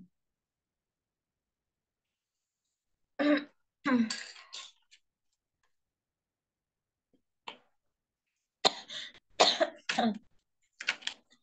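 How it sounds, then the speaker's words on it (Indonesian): A person coughs and clears their throat in a few short bursts, separated by silence, close and fairly quiet. "Kok jadi batuk sih?"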